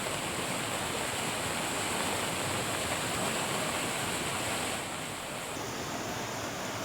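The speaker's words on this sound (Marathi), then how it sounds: "सध्या देखील या ठिकाणी मोठ्या प्रमाणामध्ये पाऊस सुरू आहे" Steady, loud rushing wash of heavy cloudburst rain in Hingoli, an unbroken hiss with no voices, easing slightly toward the end.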